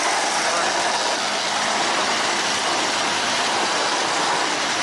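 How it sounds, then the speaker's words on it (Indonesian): Sugar cane train locomotive heard from on board while riding, a loud, steady, dense engine roar running unbroken throughout with no pauses. "Dan beginilah sensasi naik di lokomotif teman-teman. Suaranya sangat kencang sekali teman-teman."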